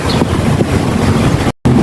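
Steady loud wind buffets the microphone over a broad rushing noise of waves at sea, with a brief dropout near the end.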